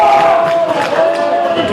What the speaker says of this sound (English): Crowd, listen to it.